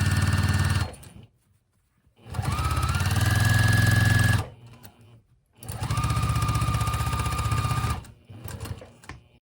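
A sewing machine stitching a fabric face mask in three loud bursts of rapid mechanical whirring, separated by short quiet pauses, close up with no talk.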